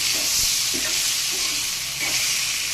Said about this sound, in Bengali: এখানে কিন্তু এই ভাজাটা কিন্তু খুব ভালো করেই করতে হবে